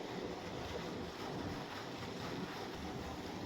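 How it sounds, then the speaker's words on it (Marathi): Water gushing steadily from the pipeline of a 5 HP pump with a 30-metre head, a loud, continuous broadband rush with no breaks and no voices. "पाणी किती मारतोय काय तुम्हाला दाखवतो"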